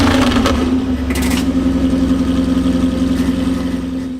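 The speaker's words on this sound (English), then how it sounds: "made the car sound like a Jaguar upon startup." A Jaguar C-X75 film car with a V8 engine fitted settles into a loud, steady idle after startup. The low rumble holds evenly throughout, with no voices.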